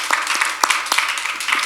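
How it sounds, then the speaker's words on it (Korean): A small high-school church congregation claps in encouragement during a Sunday worship service, with sparse, distinct handclaps landing irregularly, close and fairly loud, over a faint low hum. "응원의 박수 한번 드리도록 하겠습니다"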